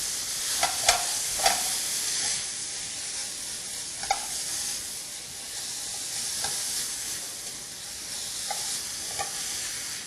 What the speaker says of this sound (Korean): 불고기 볶듯이 충분히 볶아주세요